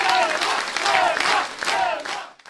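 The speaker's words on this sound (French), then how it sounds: "Face aux acclamations" A crowd at a Marseille municipal campaign rally cheers and applauds, with loud chanting voices rising and falling in waves before cutting off abruptly.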